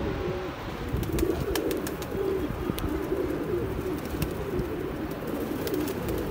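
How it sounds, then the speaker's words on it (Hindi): High flyer pigeons cooing steadily in a low, throaty murmur, with a few soft chirps and clicks scattered over it; no voices. "कबूतर देखिए बीड़ पे आने लग पड़े हैं"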